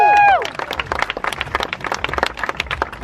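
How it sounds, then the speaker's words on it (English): An audience aboard a Celtic Thunder cruise gives a round of applause, a dense burst of clapping from a crowd right after a short tonal sting, continuing steadily at moderate loudness. "Give him a round of applause"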